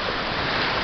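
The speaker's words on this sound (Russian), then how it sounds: "услышать, как шумит море, Сиамский залив" Sea waves of the Gulf of Thailand washing ashore, a continuous loud broadband roar and hiss with some wind buffeting, no talk.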